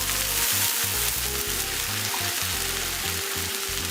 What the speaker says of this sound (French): on retourne nos blocs de tofu et on continue à faire cuire.